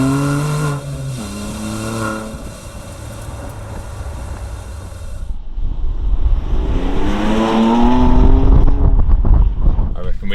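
BMW M2 Competition fitted with a Remus exhaust, revved outdoors in freezing cold: a rising engine note climbs and falls, then a louder, harsher surge builds in the second half, with wind buffeting the microphone.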